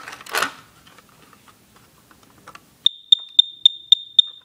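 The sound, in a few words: Kidde NightHawk smoke detector alarm rapid chirping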